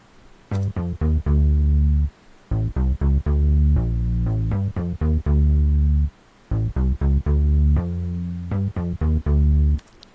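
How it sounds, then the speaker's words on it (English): A punchy 80s-style digital synth bass line plays alone in short repeated phrases, bright and buzzy with strong harmonics, pausing briefly between loud bursts. "which is I think it's called digi bass or digital bass or something like that."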